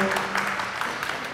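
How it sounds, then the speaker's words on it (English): Audience at an open stage night applauding and cheering a first-time performer, a brief burst of dense clapping with scattered whoops filling the room. "Give him a cheer."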